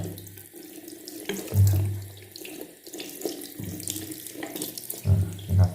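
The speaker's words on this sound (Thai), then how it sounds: "ปล่อยให้ไหลผ่านไปนะครับ" Water streams from a faucet over a glasses lens, a close, continuous splash that swells and dips as the flow shifts.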